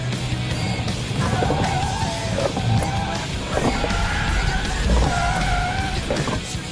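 A car swerves hard at 70 km/h during a stability control test, tires squealing in repeated bursts over a continuous engine drone, moderately close, without speech.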